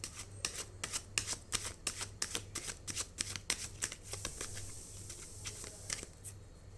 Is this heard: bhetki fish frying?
no